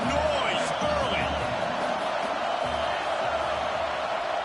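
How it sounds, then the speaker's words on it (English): Stadium crowd at a college football game, a dense continuous roar of many voices with cheers and shouts rising and falling, steady and loud throughout with occasional thumps. "This crowd bringing the energy and noise early."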